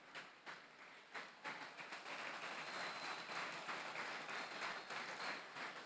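An esports crowd at a grand final applauds the athletes, a few scattered claps swelling into sustained, dense clapping across the hall with no voices over it.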